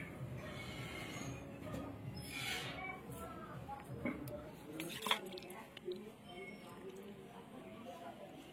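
Mother and child chewing as they eat a home-cooked meal of katla fish curry with gathi kochu and eggplant, plus bottle gourd cooked with a fish head. The chewing is soft and close, with faint mouth sounds and light clinks of eating throughout.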